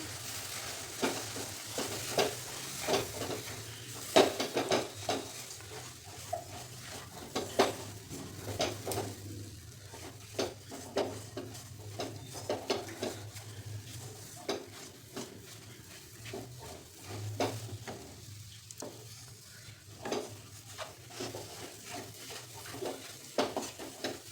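Milk stirred into modak mixture in a pot, a spoon scraping and clinking against the metal in an irregular rhythm over a low sizzle, fairly quiet and without talk.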